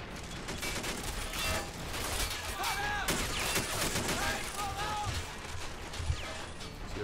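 A World War II video game battle rattles with dense, continuous machine-gun and rifle fire, with bursts and a few louder impacts layered over a constant roar of combat.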